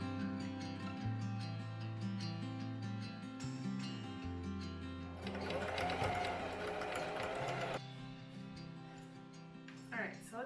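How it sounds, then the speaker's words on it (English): A sewing machine hums steadily as it stitches layers of an upcycled sweater. The whirring grows louder and busier midway through before settling back, with a voice talking softly underneath. "I'm gonna stitch maybe like 1/4 inch past the 2 seams where they meet."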